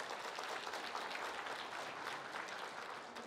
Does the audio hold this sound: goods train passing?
no